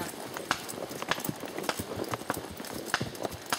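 Horse hooves clip-clop steadily along a newly worked trail at Kickapoo during a horseback ride, a moderately close, uneven rhythm of distinct hoof strikes with no talk.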